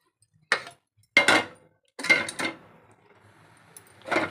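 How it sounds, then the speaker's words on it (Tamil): Cooked urad dal is poured into a pot of boiling coconut mixture in a series of separate, close splashing pours with clanks against the pot, with near silence between them. "உளுந்து வேக வச்சதை ஊற்றுறேன்."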